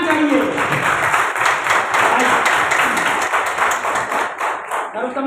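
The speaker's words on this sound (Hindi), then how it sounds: "ताली जोर से आना चाहिए।" Audience clapping at a Maharana Pratap Jayanti event, a sustained burst of many hands applauding, fairly close, with a voice heard through it.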